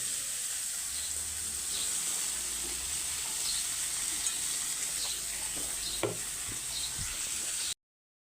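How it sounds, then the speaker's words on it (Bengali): Bitter gourd frying in a pan at home gives a steady, even sizzle with soft stirring scrapes and a few louder clicks near the end, with no talking. "এখন আমাদের করলা ভাজা ফিনিশিং।"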